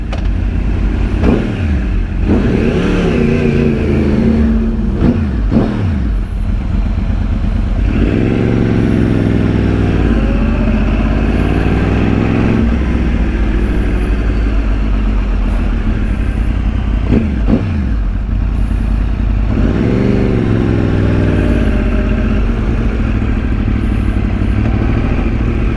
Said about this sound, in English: this is another shot of the R1 right now, about to jump on the highway, do some pulls